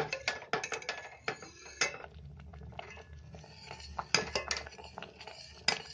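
A utensil stirs custard pudding in a pan over a medium flame, giving irregular metallic clinks and scrapes against the pan in quick bursts with short pauses between them.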